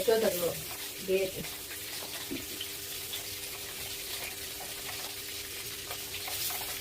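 Masala for fish roast sizzles slowly in a pan, a steady low frying hiss running throughout with brief stirring clatter near the start and a faint tonal hum underneath.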